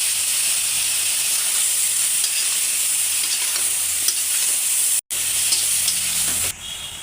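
Bitter gourd frying with onion and cumin paste, a loud steady sizzle and hiss with faint stirring underneath, broken by a brief cut of silence.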